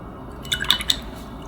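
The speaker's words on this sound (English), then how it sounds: "Again, cleaning my brush" A paintbrush is rinsed in a water cup, giving a brief cluster of small wet clinks and drips close up over a faint quiet background.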